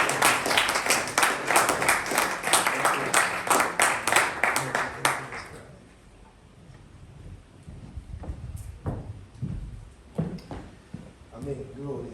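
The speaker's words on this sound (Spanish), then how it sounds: "Recibámosle con un fuerte aplauso." Applause from a church congregation greeting the arriving pastor, a dense burst of many hands clapping for about five seconds before it stops abruptly, followed by faint rustling and scattered handling noises.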